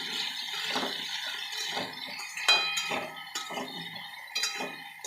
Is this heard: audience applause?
no